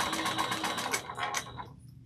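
A sewing machine stitches a quarter-inch seam on a backpack. It runs as a fast, steady burst of close stitching for about a second and a half, then stops.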